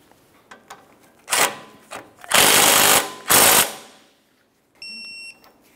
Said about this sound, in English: Start on the ball joint nut, bottom it out, and then torque it to 65 foot-pounds.